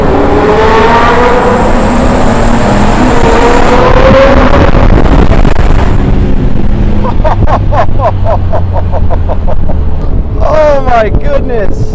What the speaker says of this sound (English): 3 V12 Lamborghinis in a tunnel at once